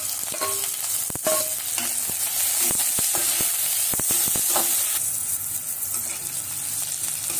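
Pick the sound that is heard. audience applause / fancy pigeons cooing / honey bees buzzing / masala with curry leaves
masala with curry leaves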